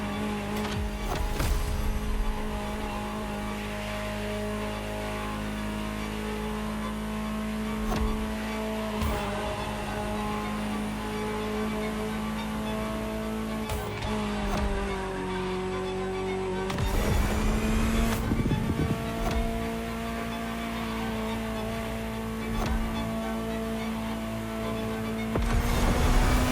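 A Ferrari supercar engine in the racing game The Crew Motorfest, close and steady, holding a sustained tone that climbs and drops through gear changes, with brief tire squeals and skids along the way, no voices.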